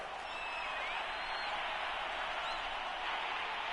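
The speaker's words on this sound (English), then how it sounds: "the crowd getting into it as we come up on a big 3rd down" A football stadium crowd roars steadily before a big third down in a playoff game, a dense, continuous wash of cheering and noise at moderate distance with no pauses.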